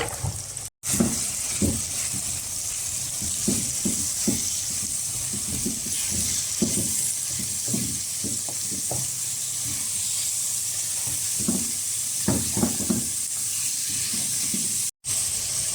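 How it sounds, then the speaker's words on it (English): Vegetables hiss and sizzle in a hot pan for Chinese-style fried rice, a steady close frying crackle punctuated by repeated stirring scrapes and clatters throughout. "now I'll be adding all the vegetables"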